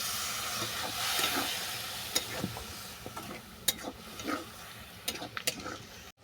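Banana peel curry with garam masala being sautéed in a pan gives a soft, steady sizzle broken by intermittent spatula scrapes and light clicks, heard up close without speech.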